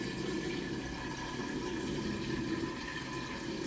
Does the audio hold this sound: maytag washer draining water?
yes